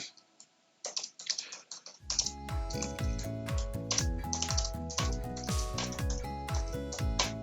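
Comments go into a website quote request on a computer keyboard: a few light taps, then fast continuous clicking typing, close and clear.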